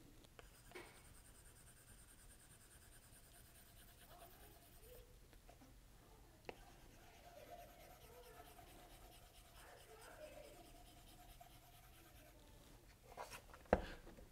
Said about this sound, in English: it really feels like and sounds like you're writing on a piece of paper